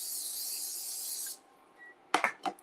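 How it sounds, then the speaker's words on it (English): A can of cooking spray hisses steadily into a pan set on low for about a second and a half, followed by a few light knocks and clatters. "cooking spray."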